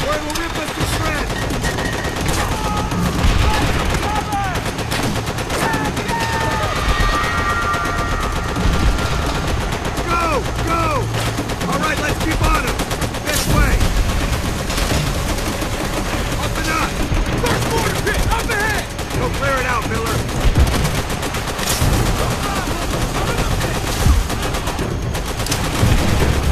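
Continuous machine gun fire in the World War II shooter Call of Duty World at War, dense rapid bursts and scattered gunshots layered thickly over battle din, with soldiers shouting at times.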